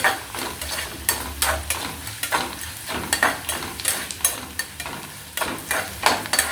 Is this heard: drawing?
no